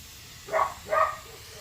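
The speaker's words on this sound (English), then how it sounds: "Anyway, some glass cleaner," Glass cleaner sprayed onto interior trim pieces of a 1993 Jeep Cherokee, two quick hissing trigger squirts close by, about half a second apart.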